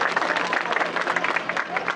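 Audience applause at an MLA's foundation-stone and ground-breaking ceremony for a village cement concrete road in Gollapalli, a steady dense wash of clapping from a crowd lasting throughout.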